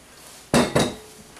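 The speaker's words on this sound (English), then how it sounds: "just stir in those mushrooms" A spoon scraping and clinking against a pan as mushrooms are stirred into a reducing sauce, two quick close knocks followed by a fading scrape.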